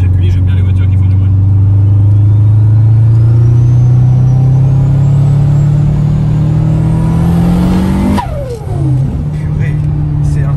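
A loud car engine revs steadily higher while the car accelerates hard on the road, rising in pitch before a sharp shift, then droning on at a lower pitch.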